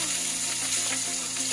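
Marinated prawns frying in hot oil with a bay leaf and black cumin, a steady dense sizzle with faint crackles, close and continuous with no talking.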